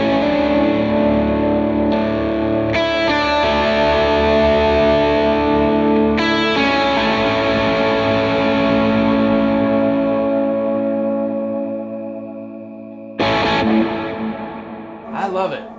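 An electric guitar played through a Line 6 POD Go preset with Ganymede reverb rings out in loud, distorted chords that swell and sustain into a long washy reverb tail, followed by a fresh strum near the end.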